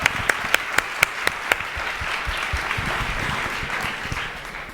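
Audience applause at a live stage event, a dense steady wash of many hands clapping that opens with a few sharp individual claps and carries on evenly without any voices.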